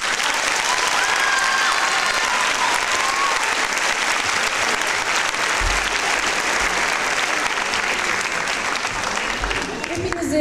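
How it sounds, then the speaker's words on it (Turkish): A year-end dance school show audience applauds loudly and continuously, a dense wash of claps with crowd noise and faint voices underneath. "hepinize o güzel alkışlarınız için teşekkür ediyoruz"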